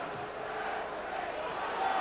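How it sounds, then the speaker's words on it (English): Football crowd at a Southampton v Manchester United FA Cup fourth-round match protesting a handball appeal, a distant broad roar of many voices, steady with a slight swell at the end. "But the protest is more from the crowd than Dowie."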